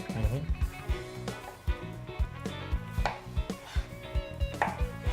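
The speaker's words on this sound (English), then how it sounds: "we're simply just going to get a nice little small dice on the watermelon" Knife dicing watermelon on a cutting board: a quick series of crisp, evenly paced chops and thuds against the board, close up, with a few heavier knocks among them.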